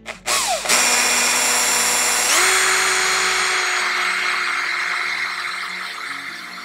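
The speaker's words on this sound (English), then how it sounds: "then you can drill right through" A power drill bores through wood framing, with a short spin-up and then a sustained high-pitched whine that shifts pitch partway through as the bit works through the lumber, close and loud, and no talk.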